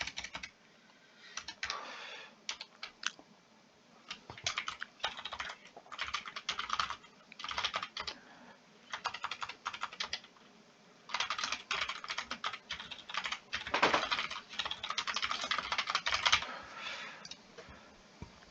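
Someone types on a computer keyboard to fill in a stock registration form, quick close bursts of key clicks with short pauses between them.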